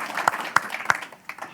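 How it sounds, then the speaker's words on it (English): A small audience at a writers' festival talk in Dunedin gives a short burst of scattered hand claps, a few distinct claps standing out over soft background noise, fairly quiet and close. "another round of applause for Miriam."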